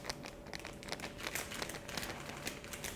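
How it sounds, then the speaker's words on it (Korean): A packet of dried udon garnish flakes, such as dried green onion and fried tofu, is shaken side to side, giving a continuous crinkling rustle of plastic with quick rhythmic rattles, close and soft. "건더기 스프는 자르기 전에 윗부분을 잡고 좌우로 흔들어 주세요."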